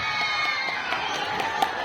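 A crowd at a school Children's Day event cheers and shouts for a team, a steady noisy roar of children's voices with faint clapping mixed in.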